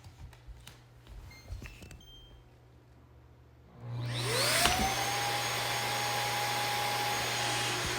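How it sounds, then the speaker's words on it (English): Knack cordless vacuum docked on its charging stand, with a few quiet clicks before a loud steady suction roar starts about halfway through and keeps going, a rising whine settling into a constant tone. "you just put it on its stand, and within seconds, it'll suck all of that out"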